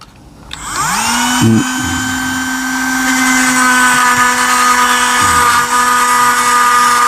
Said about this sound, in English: You don't need to run your Dremel fast, just a fairly low speed.